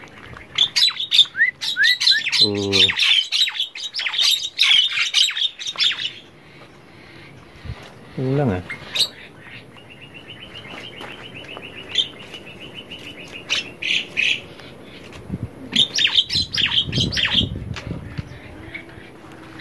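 Birds chirp and tweet in busy bursts, with some sharper squawks, while a person speaks briefly nearby, as food is set out for birds being prepared for free release.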